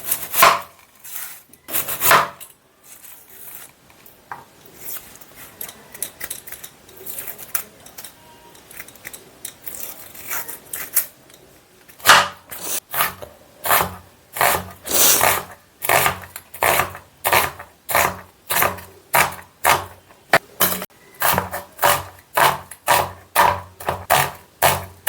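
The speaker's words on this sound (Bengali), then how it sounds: "আদা, পেঁয়াজ, রসুনটা একদম শিলনোড়ায় বাটবো।" Ginger, onion and garlic ground by hand on a shil-nora grinding stone, loud rhythmic scraping strokes in a steady repeating beat, sparser and quieter at first before settling into a regular pounding grind.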